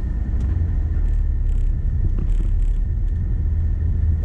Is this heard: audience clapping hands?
no